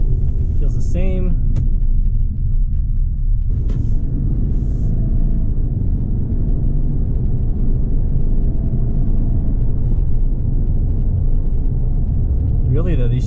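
A lifted 2020 Subaru Outback XT driving on a road, a constant low rumble of engine and tire noise throughout, with someone talking over it in short bursts.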